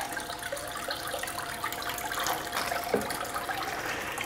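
Water pours steadily across a Royal Manufacturing gold dust concentrating table, a continuous even rush with no pauses, close and fairly loud, with no voices over it.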